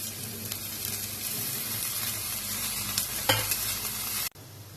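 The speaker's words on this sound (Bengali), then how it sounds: "সবজিগুলো ভাজা ভাজা হচ্ছে, এর মধ্যে আদা কুচি আর লঙ্কা কুচিটা দিয়ে দিলাম" Vegetables fry in a pan with chopped ginger and chili for chicken egg chowmein, giving a loud, continuous sizzle with stirring and scraping close by, one sharper clatter, then a sudden drop to quiet.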